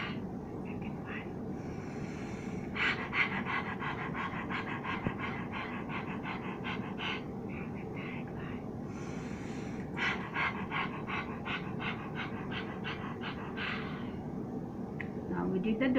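A group of voices imitates a dog's panting, rapid rhythmic breathy huffs repeated in bursts, with children's voices mixed in.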